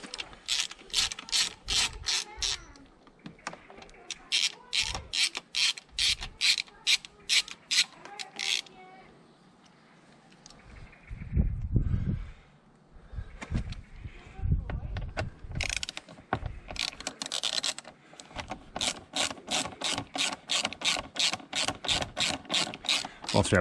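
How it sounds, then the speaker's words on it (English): Repeated clicking ratchet strokes loosen the fairing bolts on a 1998 Suzuki GSXR750 SRAD, coming in close, rhythmic bursts with brief pauses and softer handling noises between them. "Start off by removing all the bolts holding the fairings on."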